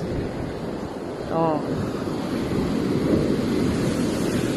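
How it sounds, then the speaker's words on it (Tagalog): Big ocean waves crash on a Mindoro shore, a loud continuous roar of surf with wind buffeting the microphone, while a person briefly exclaims nearby. "Yung dagko og waves."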